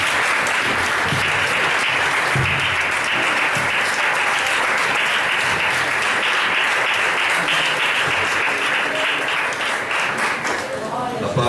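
Church congregation at a Brazilian missions service claps in praise, a loud continuous wash of many hands lasting throughout, with voices mixed underneath and a brief tail-off at the end.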